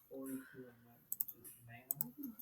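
Computer mouse clicks while selecting spreadsheet cells, several quick sharp clicks in small bursts, close and crisp, between and under a man's speech.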